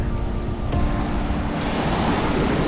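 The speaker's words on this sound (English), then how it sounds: "Still quite a big breeze that's coming from the south, just stirring up these waves" Ocean surf at Seven Mile Beach, Grand Cayman, stirred up by a strong southerly breeze, a continuous rushing wash of waves with heavy wind buffeting close to the microphone.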